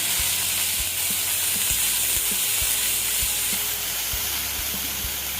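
Onion sautéing in a pan for poha and pea patti samosa filling, giving a dense, continuous close sizzle broken by soft clicks and knocks of a stirring spoon, with no voices.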